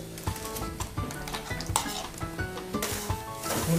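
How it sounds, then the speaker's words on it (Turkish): Onion and garlic sizzle in a hot pan, with a steady frying hiss broken by repeated scrapes and clatters of a utensil stirring against the pan, close and fairly loud. "Önce soğanla sarımsağı döküyoruz."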